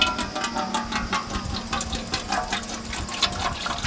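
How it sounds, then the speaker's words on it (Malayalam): Water poured into a pan to make sugar syrup for Mysore pak, a steady close splashing, trickling stream running throughout with no talk. "ഷുഗർ സിറപ്പ് ഉണ്ടാക്കാനായിട്ട് നമുക്ക് വെള്ളം ഒഴിച്ച് കൊടുക്കാം."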